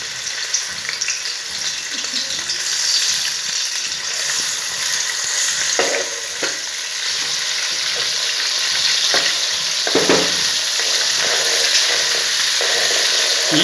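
Oil sizzles and fries steadily as a garlic, ginger and chili paste cooks, with occasional stirring scrapes, close and fairly loud, no talking.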